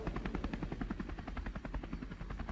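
A military helicopter flies over forest during a security search operation in Rajouri, Jammu and Kashmir. Its rotor beats out a loud, steady, rapid thumping that runs unbroken throughout.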